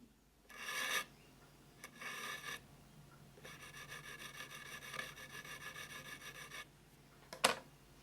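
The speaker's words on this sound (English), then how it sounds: "You can then move up to the medium file and finally the fine file to finish off and get a sharp edge." A metal file cutting a sharp 35-degree bevel edge on a marking gauge part: several rasping strokes, a couple of short ones and then a longer sustained run, close and fairly quiet, ending with a sharp clink.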